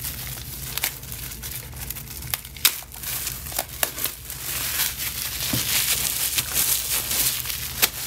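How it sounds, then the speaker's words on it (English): Plastic shrink-wrap is crinkled and torn off a K-pop album, with close, continuous crackling and sharp tearing snaps throughout and no talking. "I was gonna take this plastic off."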